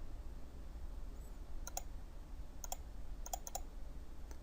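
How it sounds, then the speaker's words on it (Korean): Computer mouse clicks in Inventor drawing software, a few quick crisp single and double clicks over a quiet room hiss. "더블 클릭해야 됩니다."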